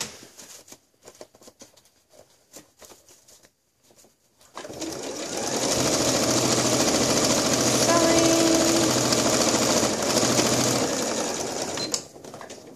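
A sewing machine stitches an elastic casing in one long continuous run, a close, steady rapid whirring that starts after a quiet stretch of faint handling noises and stops near the end.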